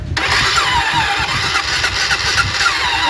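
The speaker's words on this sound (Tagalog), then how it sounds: "Parang nahirapan siyang umandar." A Yamaha Mio scooter engine, hard to start, fires up loudly and close by, then runs with an uneven, rough mid-pitched idle and some wavering revs.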